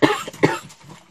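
A woman coughs twice in quick succession, close and fairly loud, the coughs trailing off into quiet breathing.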